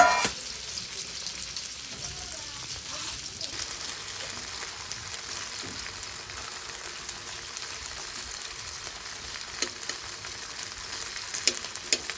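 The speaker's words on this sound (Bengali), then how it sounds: "তো আগে আমি প্রথমে আলু ভেজে নিব" Steady sizzling of potatoes frying in hot oil, a soft continuous crackle with occasional sharper pops, moderately close and without any talking.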